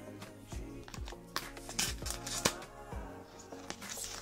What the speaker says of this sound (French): je vais y aller tout délicatement pour couper le scotch fibré qu'elle m'a mis